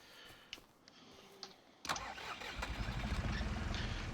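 A tractor in a farming video game cranks with a few brief clicks, then fires up with a sudden burst and settles into a steady, throbbing low idle that grows louder and rougher, close and alone.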